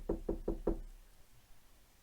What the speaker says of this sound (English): I'm trying to knock on the door.